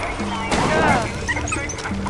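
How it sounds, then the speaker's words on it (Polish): A dog barking in the video game Far Cry 4, a couple of short barks and yips amid game noise, with someone talking over it. "Ten pies tak nam tutaj przeszkodził."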